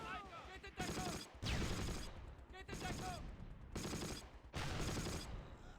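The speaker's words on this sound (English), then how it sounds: "There's an MG team shooting from over there" Machine gun fire from an MG team in the Close Combat wartime strategy game, sustained bursts of rattling gunfire in several loud stretches, mixed with other battle noise and someone talking over it.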